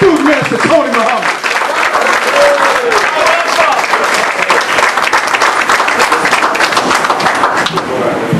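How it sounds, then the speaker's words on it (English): An audience at a Virginia gathering gives a loud, sustained round of applause. The clapping is dense and close, with scattered cheers and voices mixed in throughout. "Let's bring it on with a warm round of applause from Richmond, Petersburg, and all the state of Virginia"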